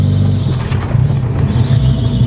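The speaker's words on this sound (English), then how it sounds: "Did you hear that rev match?" The engine of a cheap, old Porsche revs during a downshift. It is a loud, close, low mechanical drone from inside the car that swells briefly in the middle, with no talking.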